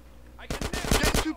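A rapid burst of about eight gunshots in the open-world game GTA San Andreas, loud and close, fired in a quick rhythmic volley.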